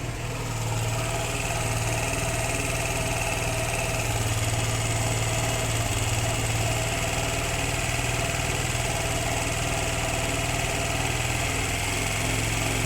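Suzuki GR150 motorcycle engine idling steadily during air-fuel mixture adjustment, a continuous close, even mechanical hum with no talking over it.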